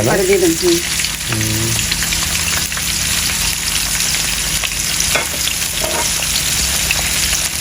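Fish and shrimp with onions frying in hot oil in a pan, a steady loud sizzle and crackle throughout, with brief voices near the start.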